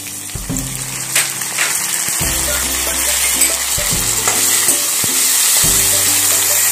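Finely chopped potatoes tumble into a pan of frying onions with green chilli for batata poha, setting off a loud, steady sizzle with stirring scrapes and clatter close up, with no talking.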